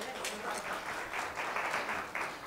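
A church congregation at a Sunday service breaks into steady applause, a dense wash of many hands clapping at moderate volume throughout, with a voice faintly underneath.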